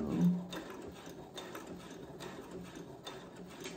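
A Brother sewing machine back stitches on a McCall L9501 pattern piece, a faint close mechanical whir with a rhythmic ratcheting pulse roughly every half second, with no voices.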